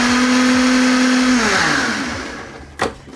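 A blender whirs loudly, whizzing moose milk cocktail mix at a steady high pitch, then winds down and stops, followed by a single sharp clunk.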